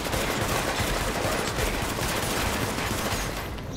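Sustained, dense gunfire from the video game The Division lays down suppressing fire, a continuous loud barrage of rapid shots with no pauses, running steadily for the full length.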